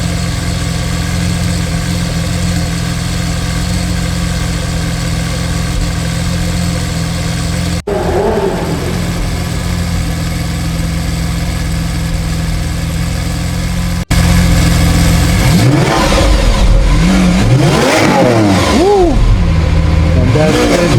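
A McLaren 720 sports car engine idles steadily with a low, even rumble, then after a brief cut it revs up in several rising and falling bursts, loud and close, with talk faintly present.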